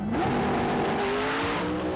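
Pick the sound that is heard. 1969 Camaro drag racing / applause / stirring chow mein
1969 Camaro drag racing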